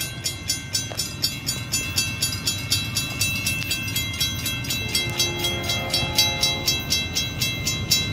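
A Union Pacific AC4400CW locomotive passes a road crossing with Wabco gates at Wheatland, California, railcars clattering steadily up close while crossing signal bells ring rhythmically throughout and a steady tone enters near the end.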